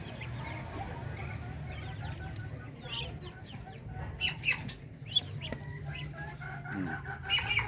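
Small three-week-old chicks peep and cluck in high, scattered chirps over a steady low hum, fairly faint and continuous, with no clear talking.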